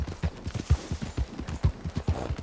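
A horse's hooves in Red Dead Redemption 2 online play beat out a quick, rhythmic clip-clop of close, punchy thuds with no talking over them.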